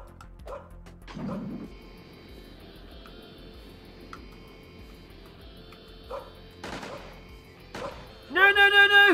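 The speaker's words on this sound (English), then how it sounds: "Do not pay attention to the dog." A small dog in an indie video game gives a burst of sharp, yipping barks near the end, after a stretch of quiet game sounds broken by scattered thuds and clicks.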